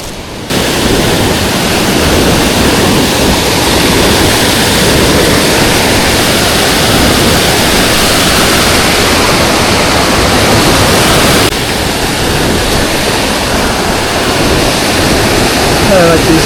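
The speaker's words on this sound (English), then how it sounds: "Next creek crossing." Rushing creek water at a high-water spring trail crossing in northern British Columbia roars steadily and loudly, a dense unbroken wash of sound close by that continues throughout.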